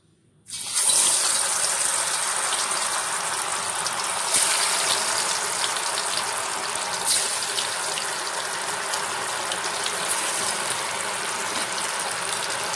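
Fish fries in hot oil in a kadai, giving a steady, dense hiss and crackle that starts abruptly and holds at a loud, even level for the rest of the clip, with no voices.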